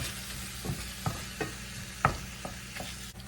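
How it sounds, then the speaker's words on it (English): A pound of ground beef browns in a pan, giving a soft, steady sizzle broken by about six scraping taps as a utensil stirs and breaks it up, with no talking. "I'm browning a pound of ground beef"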